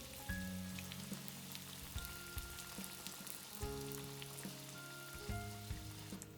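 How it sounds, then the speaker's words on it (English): Tofu and eggplant deep fry in hot oil at medium heat, giving a soft, steady crackling sizzle like light rain, faint and continuous with no voices. "I deep fry them over medium heat until they become crispy and browned."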